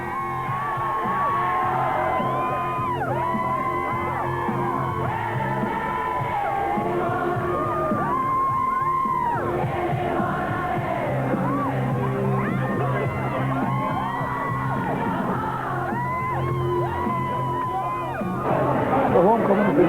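A huge crowd of about 15,000 packs the Diamond in Donegal town for a homecoming reception, roaring and whooping in a dense, continuous wash of cheers and yells, with a voice speaking clearly over the din and the noise swelling near the end.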